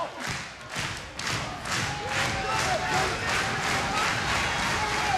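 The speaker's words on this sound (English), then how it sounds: "You can hear the crowd reaction here in the impact zone, urging Hernandez to fight his way out of the corner" A wrestling crowd in the Impact Zone reacts with rhythmic clapping, cheers and shouts urging a wrestler out of the corner, steady and moderately loud with occasional ring thuds, at a Genesis 2013 pay-per-view.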